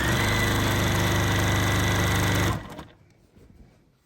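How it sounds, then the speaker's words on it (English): A Juki industrial sewing machine runs loud and fast in a steady mechanical whir while stitching quilt binding, then stops abruptly, leaving faint handling noises. "My sewing machine is very fast."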